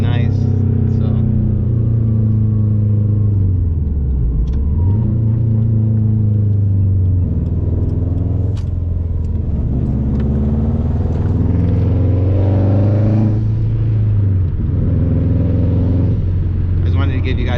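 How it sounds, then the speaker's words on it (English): A 2005 Subaru STI with a COBB 20G turbo drives along with a steady engine rumble, rising and falling as it shifts and accelerates, heard from inside the car with a voice talking over it. "I just wanted to give you guys a nice point of view of how the car sounds, how it is when it's daily driving"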